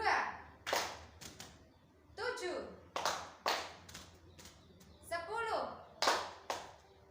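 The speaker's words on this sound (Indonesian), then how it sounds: "Kalau genap tepuknya 1 kali." Children clapping hands in a classroom counting game, short sharp claps in scattered single and paired bursts, close and fairly loud, alternating with spoken numbers and a teacher's voice.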